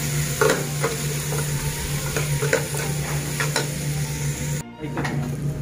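Onion and tomato masala for a Kerala-style fish fry is stirred in a sizzling pan. A spoon scrapes and taps in irregular strokes over a constant frying hiss and low hum, close and fairly loud, with a brief drop in sound near the end.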